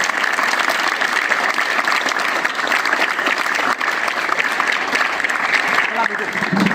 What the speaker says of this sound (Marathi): परत एकदा जोरदार तीन टाळ्या होऊन जाऊ द्या